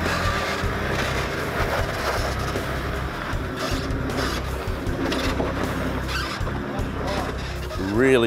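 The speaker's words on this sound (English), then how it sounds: "It was a bit of a wild ride in the cruiser that likes to lift wheels" A Land Cruiser 4WD grinding over a rutted fire trail with big boulders, its engine a steady close rumble with knocks and creaks throughout, while someone talks over it.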